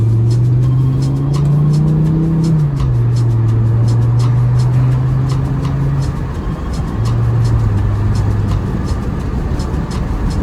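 A car cruising on the road after 50 mph is pushed faster, its steady low engine drone rising and falling in pitch against continuous road and tire noise, loud and close throughout with no talking.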